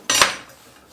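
Cutlery and dishes clink together in one brief, sharp clatter at a kitchen sink during washing up, fading quickly into quiet.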